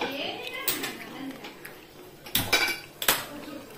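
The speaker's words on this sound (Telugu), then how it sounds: "కళాయి పెట్టేసుకొని" A kadai is set down on a kitchen stove with a few sharp metallic clanks and clinks of pans and utensils, while faint voices murmur in the background.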